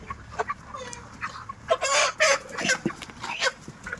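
Poultry chickens on a farm cluck in a loose, irregular series of short calls, with a louder burst partway through that sounds like a rooster starting to crow, all fairly close and with no talking.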